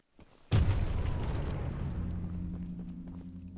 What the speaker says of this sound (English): Hell of an explosion radius.